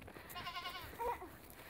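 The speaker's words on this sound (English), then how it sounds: "Oh, there's some goats." Goats bleat faintly in the distance, near an arena along a horse road trip, with a couple of short wavering calls over quiet outdoor background noise.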